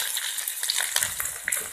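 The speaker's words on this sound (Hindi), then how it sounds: "अब इसके अंदर हम आलू डाल देंगे और इसको फ्राई करेंगे।" Potatoes fry in hot oil with light-pink onions for aloo anday biryani, a close, even crackling sizzle with faint stirring and no talk.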